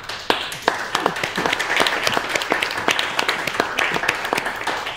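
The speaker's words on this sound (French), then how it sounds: "Vous pouvez vous applaudir." An audience claps together in a library during a literary workshop in Rouyn-Noranda. The applause is dense and steady, with sharp individual claps standing out, and it holds at an even loudness for the whole stretch with no talking.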